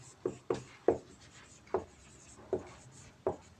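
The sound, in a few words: writing with black ink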